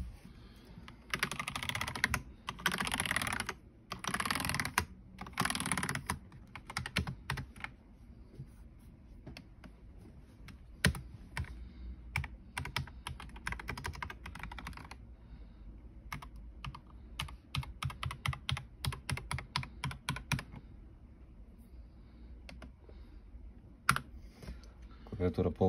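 White Ardor Wakizashi computer keyboard being typed on, with close, crisp key clicks in fast bursts and short pauses, loudest early on and again near the end.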